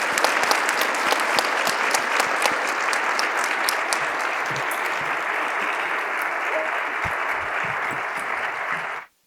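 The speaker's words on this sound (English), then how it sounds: "please just give me a huge round of applause for Lindley and Portia." A luncheon audience gives a big round of applause, a thick, sustained roar of clapping from a large room that holds steady and loud before cutting off abruptly.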